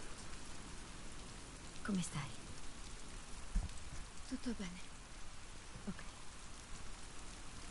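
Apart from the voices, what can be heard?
rain falling in the video game The Last of Us Part II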